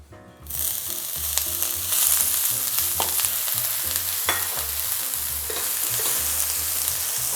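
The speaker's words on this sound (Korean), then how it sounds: "파기름부터 내기 시작할게요." Chopped scallions hit hot, smoking oil with a sudden loud sizzle that settles into steady frying, broken by clattering stirring knocks in the pan.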